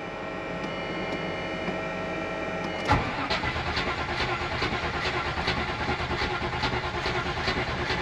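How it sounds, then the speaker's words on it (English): A 4.6 Range Rover V8 with no oil pressure sits quiet, then cranks over with a sudden jolt into a steady, rapid, rhythmic starter churn that continues without catching, close and fairly loud. "but we'll crank it over."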